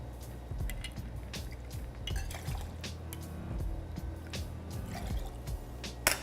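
Gin poured into a mixing vessel alongside fresh-squeezed lime juice and simple syrup for a cocktail: soft liquid trickles and drips with a few light glass clinks over a low room hum, close and fairly quiet.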